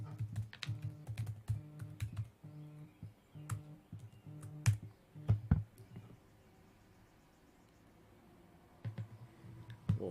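Password being typed on a computer keyboard in a classroom setting: bursts of quick, close key clicks and a few heavier keystrokes, with a quiet pause of several seconds before typing resumes near the end.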